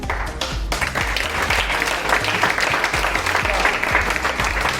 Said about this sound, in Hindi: तो हम जो ताली बजा रहे हैं ना